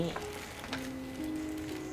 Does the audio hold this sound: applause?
no